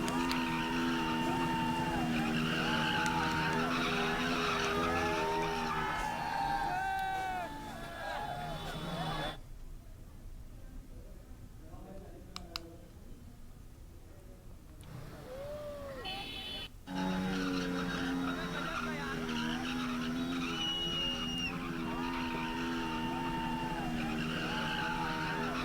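Tires on a motorbike without a number plate squeal and skid repeatedly during stunts, rising and falling in long whining sweeps, with a brief quieter gap in the middle and the engine revving beneath.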